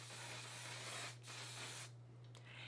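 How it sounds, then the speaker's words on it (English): An aerosol facial mist can sprays in a long continuous hiss, pauses briefly, then gives a couple of shorter bursts, close to the microphone over a low hum. "it feels like you're spraying hairspray"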